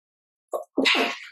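A single close sneeze: a short sharp intake followed by an explosive burst, loud against silence.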